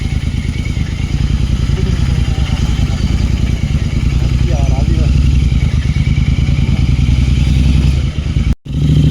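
A Royal Enfield GT 650 motorcycle ridden on mountain roads to Landour, its engine droning steadily and loud at close range with a rhythmic pulsing throb and road clatter, cutting out briefly near the end.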